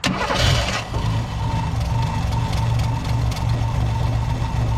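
An old abandoned Ford, a 1962 Falcon or 1967 Galaxie, cranking with a brief burst at first, then a steady loud mechanical churn and rumble running throughout, no voices.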